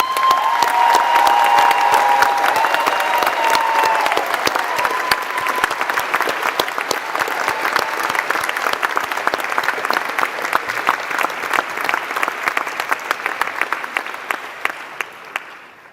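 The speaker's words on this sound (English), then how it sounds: "you deserve another round of applause" A graduation crowd gives sustained applause, thick rapid clapping from many hands with a little cheering early on, holding steady before thinning slightly toward the end.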